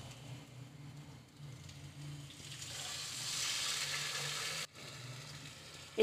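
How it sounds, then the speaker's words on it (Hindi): Water poured into a pan of raw mango pieces cooking for launji, a steady broad sizzling hiss that builds midway and cuts off briefly near the end, with no talk. "और अब इस केरी में मैं ये 1 कप पानी डाल दूंगी।"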